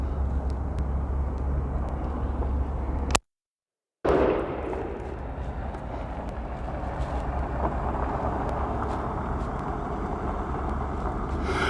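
A single loud shot from a PSA GF3 AK rifle firing 7.62x39 ammunition with 123 grain bullets at an outdoor range: a sharp blast followed by a cut, then a long rolling echo over steady background noise.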